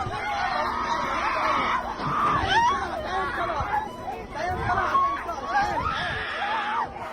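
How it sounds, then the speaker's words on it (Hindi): People scream, wail and cry out in a chaotic, tightly packed crowd after an attack on a refugee camp in Rafah, shrill overlapping voices rising and falling close by amid babble. "तो ये आप सुन पा रहे हैं, शरणार्थी कैंप पर हमले के बाद चीख पुकार"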